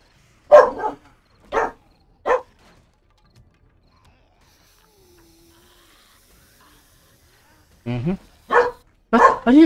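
A dog in the 7 Days to Die video game barks in sharp bursts, three quick barks near the start, then a gap, then several more closely spaced barks toward the end, loud and close.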